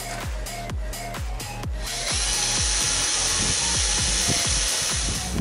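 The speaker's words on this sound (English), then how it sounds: "Drill my pilot holes." A power drill bores pilot holes for a light bar mount on a TJ Wrangler, steady whirring and grinding close by, following a run of rhythmic mechanical thumps at the start.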